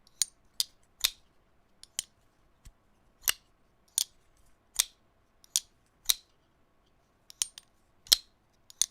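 A pocket knife's mechanism being worked by hand gives off a dozen or so sharp, crisp metallic clicks and clacks at an uneven pace, close up and with nothing else in the background.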